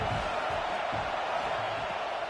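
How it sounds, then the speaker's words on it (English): Football stadium crowd at an Oregon State versus Michigan game, a steady broad roar of cheering that fills the whole stretch without a break, loud and continuous with no distinct voices standing out. "This crowd bringing the energy and noise early"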